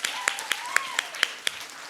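An audience at a Cégeps en spectacle local final in Victoriaville applauds the artists and technicians, with sparse, distinct claps in a loose rhythm over a brief stretch and some voices underneath.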